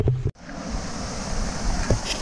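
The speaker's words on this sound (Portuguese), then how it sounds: "chegamos na cachoeira do Salomão, que é bem próximo uma da outra" Rushing water at the Salomão waterfall in Carrancas, heard as a steady, broad roar after a short knock at the start.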